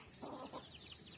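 Chickens and chicks just let out of their coop cluck twice in quick succession, moderately close and fairly soft, over a light background hiss with faint higher chirps afterward. No one speaks.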